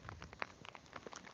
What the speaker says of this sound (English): Maybe it's going to stop raining a little bit.